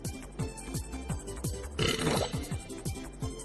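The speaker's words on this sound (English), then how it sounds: "Quit the burping." A cartoon character lets out a run of repeated deep, grunting burps in a rhythmic series, loud and close with no talk over them.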